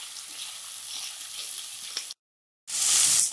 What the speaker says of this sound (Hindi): तो हम प्याज के साथ आलू और गोभी को 1 मिनट तक भून लेंगे।